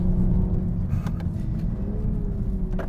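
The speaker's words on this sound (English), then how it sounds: "It also has the ZF 8-speed transmission, which I'm shifting right now." A 2022 Toyota GR Supra's ZF 8-speed automatic shifts while driving, a steady close engine drone inside the cabin with a subtle pitch drop and rise as the gear changes.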